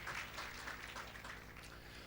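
A congregation at a church prayer and fasting service applauds steadily, a dense wash of many hands clapping at fairly even volume throughout, with no talking.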